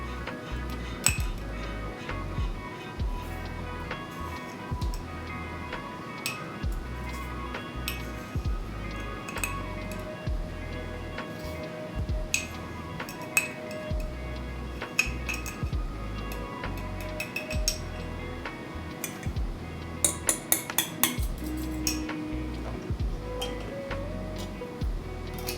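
Coarse-ground coffee being scooped into a container for iced brewed coffee, with repeated clinks and ticks of the scoop against the vessel and rustling grounds, close up.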